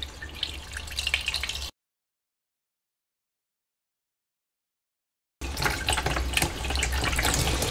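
Hot water runs from a kitchen tap into a frying pan with a steady splashing rush, stopping abruptly into several seconds of silence before the flow resumes just as strongly.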